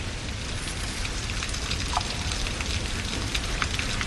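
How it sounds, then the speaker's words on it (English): Light summer rain, a steady soft hiss of pattering drops falling continuously at moderate loudness, with no voices over it. "The pitter-patter of light summer rain."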